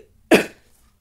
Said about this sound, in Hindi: देखिए थोड़ा खांसी आ रही है।